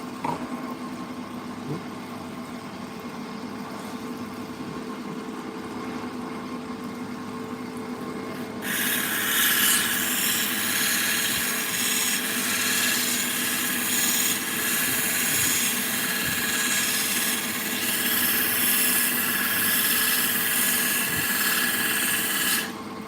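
A cabochon cut from a Lake Michigan rock is held against a spinning polishing wheel, giving a continuous whirring hum that turns into a louder, brighter rubbing hiss about midway and holds steady to the end.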